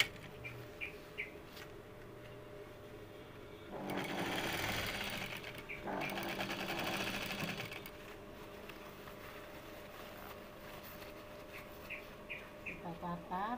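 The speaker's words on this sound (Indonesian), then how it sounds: "ini mulai kita jahit. Kita jahit dari bagian luarnya." A sewing machine stitches a skirt waistband in two steady running bursts of rapid mechanical whirring, with quieter pauses between them and birds chirping faintly in the background.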